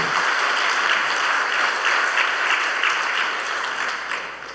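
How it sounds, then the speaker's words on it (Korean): Church congregation applauding at a Sunday service to welcome a guest, a dense steady wash of many hands clapping that holds throughout and tapers slightly at the end. "우리 박수로 한번 환영하겠습니다"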